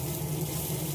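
Boiled soybeans fry in hot oil with ground turmeric and cumin, giving a steady close sizzle that runs without a break through the brief moment, with no voices.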